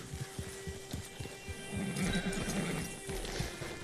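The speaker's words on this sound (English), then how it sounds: "Gotta hitch the horse." A horse whinnies at a hitching post in Red Dead Redemption 2. A drawn-out, fairly loud neigh sits in the middle, with scattered hoof steps and shuffling before and around it.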